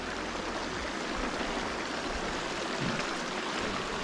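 Water of a family creek near a bridge and dam flows steadily, a constant broadband rush heard alone without talk.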